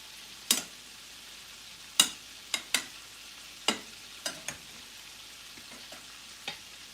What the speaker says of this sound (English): And we have our shrimp boiling.